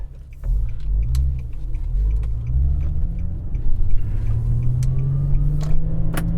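A car driving along with a steady low engine rumble and road noise from inside the cabin, the engine pitch slowly rising as it gathers speed, with faint clicks and rattles on top.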